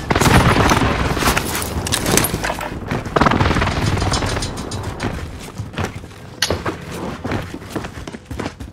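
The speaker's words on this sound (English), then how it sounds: "Enemy precision airstrike." Precision airstrike in Call of Duty: Warzone on Rebirth Island, a loud run of booming blasts and crackling shots that starts strong and thins into scattered, sharper impacts toward the end.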